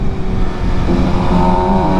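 A Suzuki Gixxer motorcycle engine revs and roars up close, its pitch climbing and settling in a continuous, loud drone.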